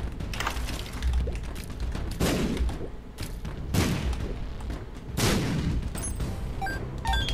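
Bombs explode in The Binding of Isaac video game, several heavy bursts a second or so apart, loud and close, over busy game noise and a few high chimes near the end.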